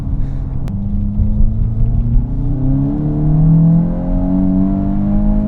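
A VW Mk8 GTI with a 6-speed accelerates hard through second gear in cold weather, its engine note rising steadily as a loud, close rumble with a climbing drone and no voices.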